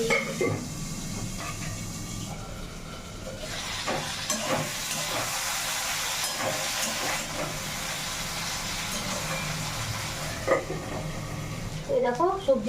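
Eggplant slices frying in hot oil in a pan, a steady close sizzle running throughout with occasional stirring clatter, and a person speaking over it.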